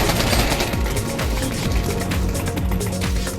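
Rapid gunfire rips through a penetrable bookcase on the Office map in Pavlov VR, Counter-Strike style, a dense continuous burst of sharp shots with bright impacts running the full few seconds, loud and close.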